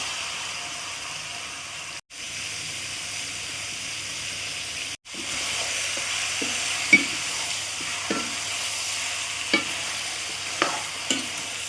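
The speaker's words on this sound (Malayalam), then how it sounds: "പുരട്ടി വെച്ചിരുന്ന ചിക്കൻ ചേർത്ത് കൊടുക്കുകയാണ്" Marinated chicken tipped into a hot frying pan and stirred for a Kerala-style chicken curry, giving a steady close sizzle with spatula scrapes and two brief breaks.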